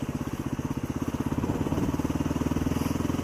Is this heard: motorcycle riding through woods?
yes